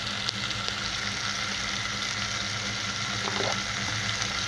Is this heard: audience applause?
no